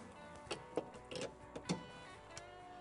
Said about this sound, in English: what that takes is a 5/8-inch ratchet as well as an end wrench